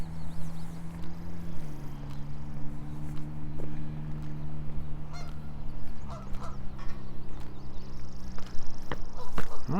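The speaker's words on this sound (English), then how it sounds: "Honk, there are always geese." Geese honk repeatedly at a moderate distance around Wascana Lake in Regina in scattered calls over a steady low background hum, with no one speaking.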